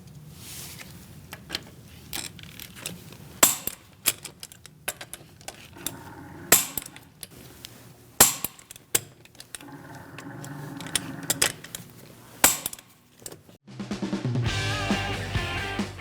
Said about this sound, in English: We're going to torque our wheels to 95 foot-pounds. I'm using a 17mm socket.